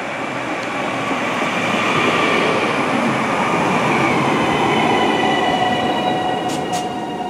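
A Northern passenger train rumbles loudly and steadily at a railway station, with a broad, continuous roar of wheels on track and faint high squeals near the end.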